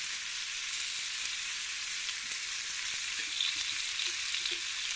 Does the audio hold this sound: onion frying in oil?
yes